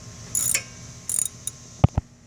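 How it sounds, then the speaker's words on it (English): Ratchet and socket clicks on a Mazda Tribute front brake caliper slide bolt: two bursts of ratcheting, a lone click, then two sharp knocks as the bolt breaks loose, close up with no talk. "insert our 7mm right back here and start taking out this slide bolt"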